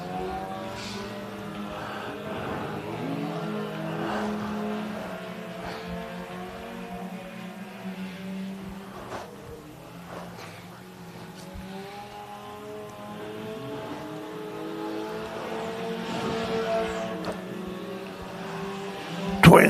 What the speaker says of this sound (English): see the cars, American cars, or cars racing on the Speedway